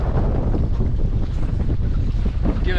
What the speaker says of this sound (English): Bloody windy though.